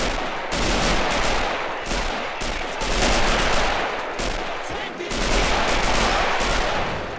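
Men of War: Assault Squad 2 battle with sustained rattling machine-gun fire and rifle shots in long dense bursts, separated by brief lulls, loud and close, some distant thuds underneath.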